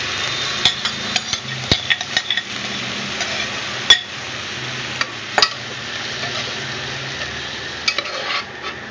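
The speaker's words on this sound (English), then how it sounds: "Now the onion has changed color. It got that golden color. Now I will add this fish." Fish is added to onions that have fried golden in a pan: a steady sizzle runs throughout, broken by sharp clinks and scrapes of a utensil against the pan, close and with no voices.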